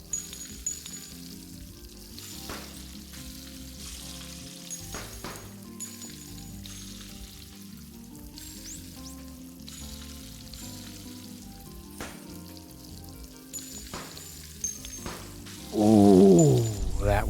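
Eggs frying with a steady sizzle in the video game Arctic Eggs, set over game music with occasional clicks, then a louder bubbling burst near the end.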